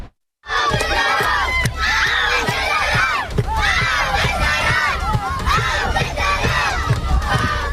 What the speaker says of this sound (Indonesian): Anak-anak Palestina terlihat berteriak di samping pagar kawat berduri yang didirikan oleh pemukim Israel